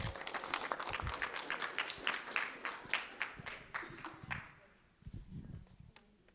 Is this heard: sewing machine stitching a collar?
no